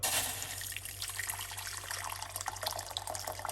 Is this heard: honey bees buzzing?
no